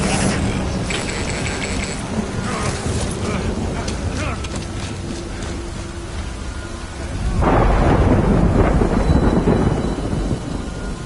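Heavy rain and rumbling thunder in Death Stranding: a dense, loud, continuous downpour with a deep roll that swells near the end, mixed with faint mechanical clinks and some talk.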